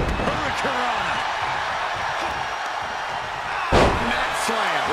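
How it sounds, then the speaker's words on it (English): A neck slam landing in a WWE 2K22 match between Riddle and John Cena: one loud, sharp impact thud over steady arena crowd noise and commentary-like talk, with smaller thumps around it. "Neck slam with some attitude."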